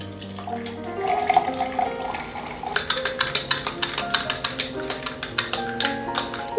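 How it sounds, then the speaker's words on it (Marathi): Soda fizzes and splashes as it is poured into a glass of virgin mojito with crushed lemon and mint, a bubbly liquid stream followed by a rapid, rhythmic run of crackling clinks and pops. "आता याच्यात आपण घालणार आहोत सोडा."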